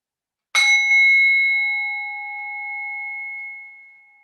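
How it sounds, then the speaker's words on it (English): A meditation bell struck once during a restorative yoga session, a bright clear ring that rises from silence and hangs on a long sustained tone, slowly fading away with nothing else heard. "allow your attention just to rest gently on the sound or the vibration of this bell"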